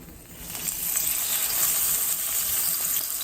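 Cooking oil sizzles loudly in a pan before iceberg lettuce is stir-fried, a close, steady hissing crackle that swells slightly and holds without talk.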